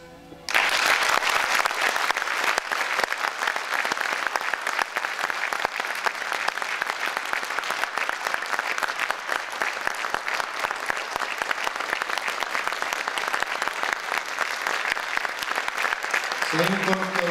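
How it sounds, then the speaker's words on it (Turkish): A memorial evening's audience bursts into sustained, dense applause that holds steady and loud for about sixteen seconds, ending as a voice starts speaking. "Tabii bu alkışlar, bu geceki alkışların tümü Celil Yaz'ın alkışları"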